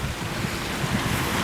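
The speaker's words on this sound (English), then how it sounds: "I consider them waterfalls because that's what the water's doing. It's falling." Water spills steadily down a rain chain fountain in a display garden, giving a continuous dense splashing rush with no pauses and no voices.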